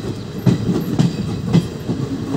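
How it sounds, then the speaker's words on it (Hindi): A Mathura-Jaipur passenger train pulling out of Ghazi railway station, heard from on board as a loud, steady rumble with rhythmic clickety-clack wheel beats over the rail joints. "यहाँ गाजी का रेलवे स्टेशन से निकलती हुई हमारी ट्रेन"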